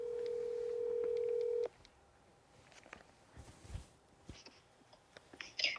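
A telephone call being placed, with a steady ringback tone for a couple of seconds that stops abruptly, followed by quiet line noise, faint clicks and a short high blip.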